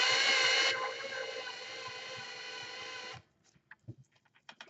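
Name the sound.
drill spinning to twist wire for model tree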